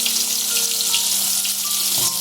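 Tomato and vegetables fry in oil while being stirred, making a constant bright sizzle with faint tonal background sounds and a brief scrape near the end, no talking.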